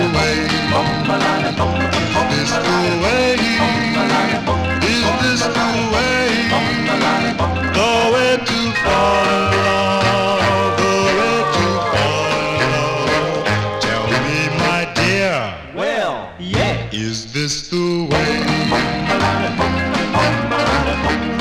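A 1957 doo-wop record plays continuously with a male lead vocal over harmonizing backing voices and a steady rhythm section, loud and full, with a sweeping bass vocal flourish near the end.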